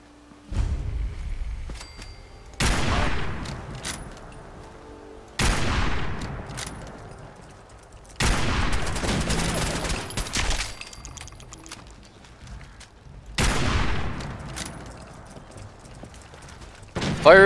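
Gunfire in Fallout 4 comes in four loud bursts of rapid shots, each lasting a couple of seconds and separated by quieter gaps.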